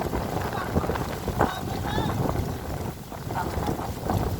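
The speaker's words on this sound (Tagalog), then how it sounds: "Ang lakas ng hangin." Strong wind on an island buffets the microphone in a steady broadband rush, with people talking underneath and faint water or boat sounds in the background.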